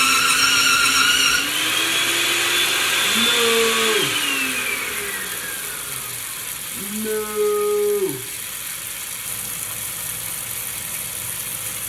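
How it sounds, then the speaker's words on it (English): A blender motor whines and grinds through raw kidney, its pitch rising and falling as it speeds up and slows, with a brief spoken word over it. "Now the kidney's blending up."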